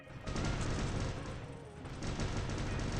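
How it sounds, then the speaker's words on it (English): Heavy robot weapons in the War Robots mobile game fire continuously, a dense rumbling barrage with rapid overlapping shots that stays steady and fairly close throughout. "Except I have 2 guys shooting me"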